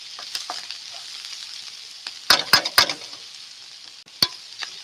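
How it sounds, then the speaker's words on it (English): Onions, mushrooms and garlic frying in a pan make a steady bright sizzle, with a cluster of sharp utensil clacks and scrapes in the middle and one more near the end. "Onions are browning up nice. Mushrooms are browning up nice."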